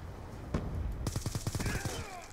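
Rapid automatic gunfire in the shooter game Black Ops 2, a sharp single shot followed by a burst of about nine evenly spaced cracks, loud and close, with a faint voice in the background.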